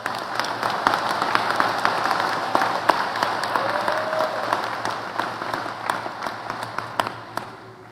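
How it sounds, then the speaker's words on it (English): Sustained applause from a large audience at a 2023 Muskegon Community College commencement, a dense even wash of many hands clapping at steady loudness throughout, fading slightly at the end. "please give them a round of applause"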